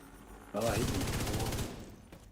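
Rapid automatic gunfire in The Division 2, a dense burst of closely spaced shots lasting about a second, loud and near, then tapering off with a faint later report.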